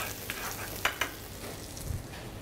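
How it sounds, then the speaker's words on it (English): Chopped shallots sweating in a hot pan give off a soft, steady sizzle and fry, quiet and close, with a few small crackles and pops scattered through. "Just going to start roasting those. Sweat them down nicely."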